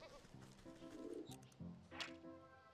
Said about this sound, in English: What do we need to take care of these sheep?